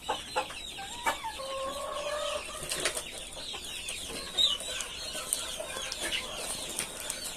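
Fancy farm chickens in a cage, some of them sick, cluck steadily from close by, with scattered sharper calls and a few brief wing flaps over a continuous, busy flock background.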